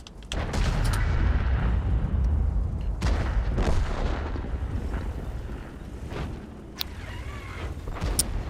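Tank gun fire in the online game World of Tanks: a heavy boom followed by rumbling explosions and a sustained low roar, with several sharper impacts and clanks later on.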